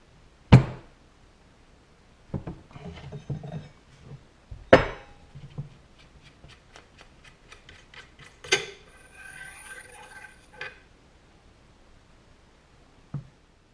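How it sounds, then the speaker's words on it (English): An AR-15 armorer's wrench loosening the handguard nut on a Ruger Precision Rifle: sharp metallic clanks, a few ratcheting tick runs and scattered light taps, close and intermittent in a quiet room. "we need to loosen this nut with our AR-15 armorer's tool"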